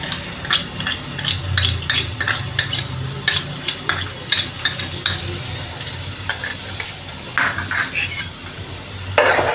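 Garlic sautéing in hot oil for Schezwan chutney, with a continuous sizzle and frequent quick scrapes and clinks of a spatula against the pan, close and fairly loud throughout, with no voices.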